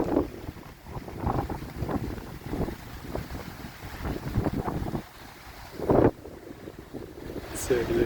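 Strong wind buffets the microphone beside Caribou Lake, a rough, gusty roar that swells and drops across the clip, with a sharper blast near the end; boat and water noise may sit underneath.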